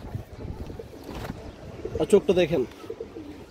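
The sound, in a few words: female pigeons cooing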